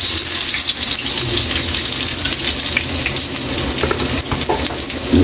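Ginger pieces fry in hot oil in a pan for chicken nilaga, a loud, steady crackling sizzle that continues without a break.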